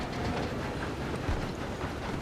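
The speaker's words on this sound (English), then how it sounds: "If we don't stop this train soon, the other boys will never catch us." Continuous rumble of a train rolling on rails during a robbery in Red Dead Redemption 2, dense and steady with faint clickety-clack, close and loud, no voices.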